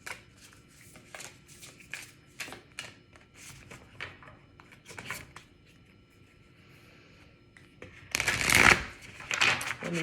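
Oracle cards being shuffled during a tarot reading: quiet scattered taps and flicks, then a loud, dense riffling burst near the end.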